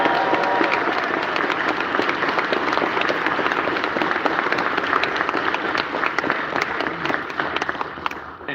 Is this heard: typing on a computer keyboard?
no